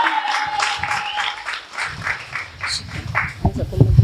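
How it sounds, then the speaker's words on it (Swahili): Audience applause at a church children's Bible-verse recitation event, a broad wash of clapping that swells after a few seconds of talk and continues with voices mixed in. "Pigie makofi."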